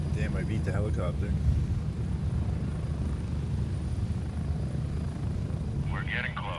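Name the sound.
helicopter in Grayzone Warfare video game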